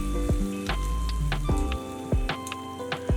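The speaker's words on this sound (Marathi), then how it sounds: "आता आपण यामध्ये जे कांदा आणि टोमॅटोचा पेस्ट आहे ते बनवून टाकायचं" Onion and tomato paste frying in a pan for a spicy fresh green pea sabji, giving a steady close crackling sizzle with scattered sharp pops and spits throughout, no voices.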